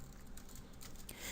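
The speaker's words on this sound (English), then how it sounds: "So we do that by typing" Rapid typing on a computer keyboard while entering CSS code, a steady patter of close key clicks with no voices.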